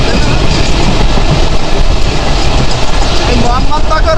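Loud, rumbling train noise fills the clip, a dense rolling roar with rattling, at a busy railway station platform on the Mongla–Khulna line.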